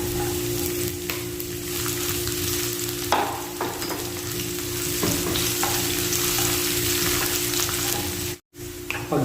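Garlic and onion sizzle steadily in a hot pan, a constant frying hiss with occasional stirring clinks and scrapes and no talking.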